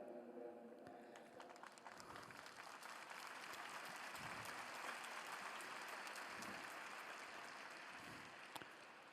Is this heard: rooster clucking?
no